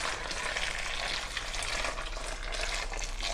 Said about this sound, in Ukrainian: я їх маю перекласти у іншу більшу мисочку і заливаю окропом на 1 дві хвилинки